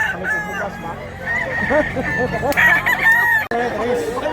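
A two-year-old mountain-raised rooster crows nearby in a long drawn-out call, with other fowl clucking and a faint voice murmuring in the background.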